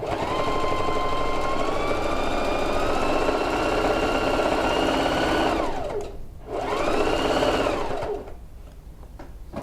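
A sewing machine stitches a quilted coat in a fast, steady whir up close, slowing to a brief stop, then starting again for a short run before going quiet.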